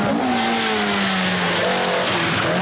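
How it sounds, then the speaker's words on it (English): A Ford Escort rally car at high speed in the final miles of the 1982 Ulster Rally, its engine holding a loud, sustained high-revving note as it passes. "Escort reels off the remaining distance"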